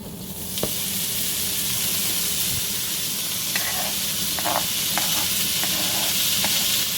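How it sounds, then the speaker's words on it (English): Bacon hitting a large, already heated wok gives a loud, steady, hissing sizzle, with a few brief scrapes and clicks from stirring near the middle. "I've got it heated up, and we're just going to add the bacon."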